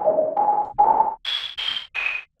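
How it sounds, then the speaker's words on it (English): With the retro setting on, the Whistler whistle synth plugin plays six short whistled notes: three lower tones, then a leap to three much higher ones. The sound is clear and up close, with no speech. "But if you put it on, it sounds like this"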